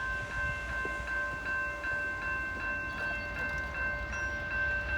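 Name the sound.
CSX northbound train passing in snow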